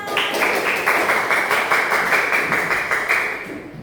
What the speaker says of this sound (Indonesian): Semuanya kasih tepuk tangan